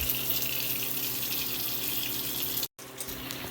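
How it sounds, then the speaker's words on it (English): Tap water runs steadily into a sink while peeled potatoes are rinsed, a loud continuous close rush that briefly cuts out for a moment near the end before resuming. "We'll rinse those off, get those in the trays."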